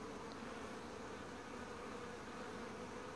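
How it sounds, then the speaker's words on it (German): Honeybees in autumn flight at the hive, foraging on buckwheat: a steady, dense buzzing drone of many bees, continuous and fairly close, with no talking. "Das heißt, die Bienen werden noch weiter fliegen können."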